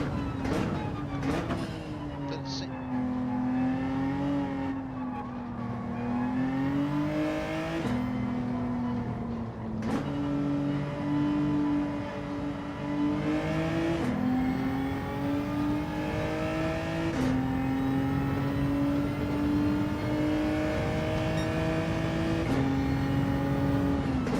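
A Genesis G70 engine races in Gran Turismo 7. It drones loud and steady, its pitch rising through each gear and dropping sharply at regular shifts, with no talk over it.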